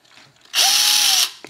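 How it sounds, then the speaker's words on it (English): A power drill driving a 2mm screw gives one short, high whirring burst of about three quarters of a second, close and fairly loud, with a slight pitch rise as it starts, followed by faint clicks. "Got a drill in my hand."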